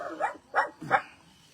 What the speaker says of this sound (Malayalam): എന്റെ വീട്ടിലെ നായ വെറുതെ കിടന്ന് കുരയ്ക്കാൻ തുടങ്ങി